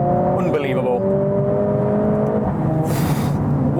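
Mercedes-AMG A 45 S 2019 hatchback with a 2-litre four-cylinder engine, 415 bhp, droning steadily on the road with rising harmonic tones; a brief hiss breaks in near the end.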